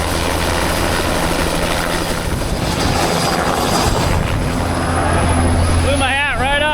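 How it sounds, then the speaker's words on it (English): Loud, close helicopter roar giving rides at a farm show in Brazil, with steady rotor thumping and wind noise filling the scene, a voice briefly audible near the end. "One thing that's really unique at this farm show is they got helicopter rides."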